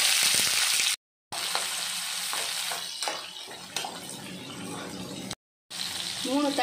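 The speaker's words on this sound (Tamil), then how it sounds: "இப்போது வெங்காயத்தை சேர்த்திடலாம்." Onion going into hot oil with mustard seeds, chana dal and urad dal, setting off a loud hissing sizzle that settles into steady frying with small pops and scrapes, broken by two short silent gaps.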